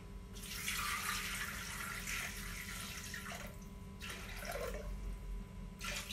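Water runs from a tap into a vessel for a vegetable stew, a steady splashing pour broken by a short pause, then resuming briefly before stopping.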